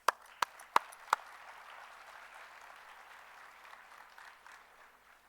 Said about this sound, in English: I would first like to start by giving you all a huge applause.